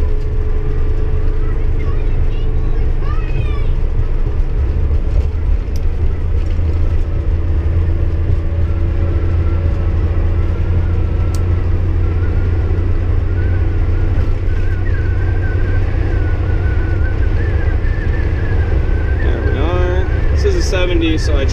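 A 1956 GM PD4104 bus rumbles along on the road, its engine a deep, steady drone with a low hum underneath, continuous for over twenty seconds with light rattles and faint cabin noise.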